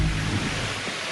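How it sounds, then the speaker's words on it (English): Heavy rain is driven sideways by strong wind, a loud, close, continuous wash of rain and gusting noise with a low rumble at the start. "The rain is actually horizontal at this point"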